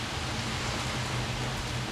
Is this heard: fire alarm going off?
no